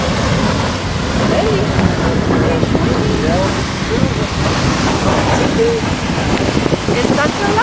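Beehive Geyser erupts in Yellowstone with a continuous, roaring rush of water and steam, broad and steady, buffeted by wind noise as people talk nearby.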